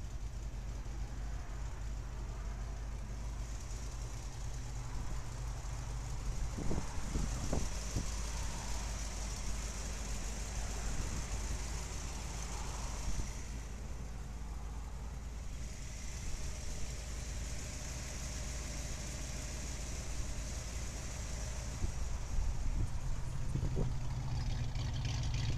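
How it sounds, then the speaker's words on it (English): A 1959 Chevrolet Corvette with a 283 V8 idles steadily up close, a continuous low rumble with a few brief throttle blips and small mechanical knocks, no talking. "Really nice running engine."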